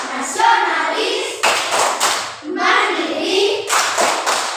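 A group, apparently children, performs the Tepuk PPK clapping chant, with bursts of rhythmic hand claps and thumps alternating with chanted voices in short, loud phrases.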